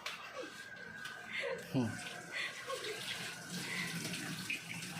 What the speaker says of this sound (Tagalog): Yung aking anak naman mga idol naghuhugas